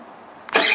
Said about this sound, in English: Hopefully it'll start, because I can't give it any throttle, and it's kind of cold